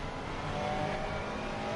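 A Ferrari GT3 race car in a video game at Kyalami, its engine droning steadily at high revs as it pulls through the gears, loud and continuous without a break.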